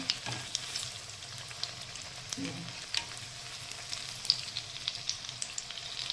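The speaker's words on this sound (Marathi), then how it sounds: "आता मी काढून एवढेच चांगले परतून घेते गॅस मी थोडा मोठा केलेला आहे" Suran (elephant foot yam) sautés in a pan over a raised gas flame, giving a quiet, even sizzling hiss with light clicks and scrapes of stirring scattered throughout.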